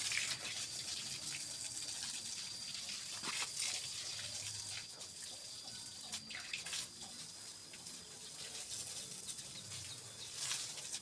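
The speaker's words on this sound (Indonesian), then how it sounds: "Cukup siram aja seperti ini." Water sprays and splashes steadily while oyster mushroom growing bags and the floor of a hot mushroom growing house are watered, with a continuous hissing gush and a few louder bursts.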